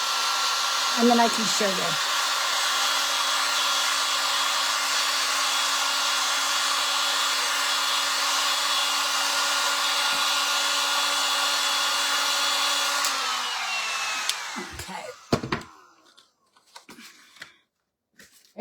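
A hair dryer blows over a sheet of chalk paint with a loud, steady whirring hum for about thirteen seconds before it winds down and stops, followed by handling clatter; a voice speaks briefly near the start.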